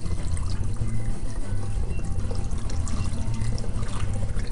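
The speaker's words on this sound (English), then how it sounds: "you want to make sure you carefully, as you can anyway, pour this in" Liquid yeast starter pours into a growler over a sink, a continuous, fairly loud gurgling stream with a rapid glugging pulse throughout, close by.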